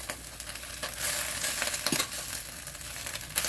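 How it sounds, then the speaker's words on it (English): Garlic frying in the bottom of a pot, a soft steady sizzle with light stirring scrapes and a few brief clinks, heard alone at low level. "I normally like to cook up my garlic on the bottom of the pot"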